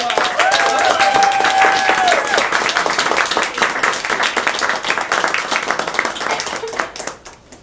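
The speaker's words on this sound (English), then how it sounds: "let's give a warm welcome of applause" Warm audience applause fills a bookstore author event with three novelists at University Book Store in Seattle: dense, steady clapping from a crowd, with a few shrill whistles early on, fading out over the last second.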